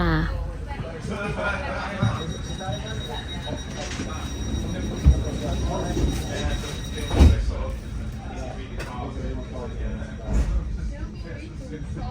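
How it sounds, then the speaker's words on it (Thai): Steady rumble of an electric commuter train in motion in Finland, travelling to Espoo, with wheel noise and occasional louder clunks while people murmur in the background. "จะมีรถไฟฟ้า แบบที่นั่งอยู่นะคะ"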